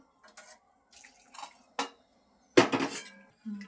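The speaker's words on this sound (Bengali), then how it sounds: "এখন ঢেকে দিচ্ছি" A metal lid clatters onto a cooking pot of potato and cauliflower curry, preceded by a few light clinks and taps, then one sharp loud clang of metal on metal that rings briefly before fading.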